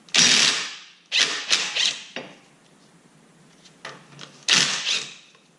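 A wrench working a 30mm nut on a 2013-2019 Nissan Versa Note during transmission removal, several loud close bursts of ratcheting and metallic scraping with quieter clicks between, no talking.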